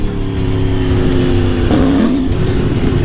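A new motorcycle's engine revs loudly and close, holding a steady drone before rising in pitch with a brief throttle blip, then settling back, with no talk over it.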